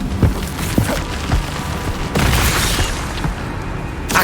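Incendio fire spell cast in the video game Hogwarts Legacy: a burst of booming, crackling blasts with several sharp thuds and a louder whooshing surge midway, dense and continuous.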